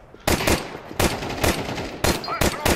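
Rapid bursts of automatic gunfire in Counter-Strike 2 on the Office map, several loud clustered volleys spaced across a few seconds, close and sharp, with faint voices underneath.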